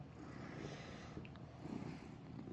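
A cat purrs softly and steadily, up close, with a faint, even rumble throughout.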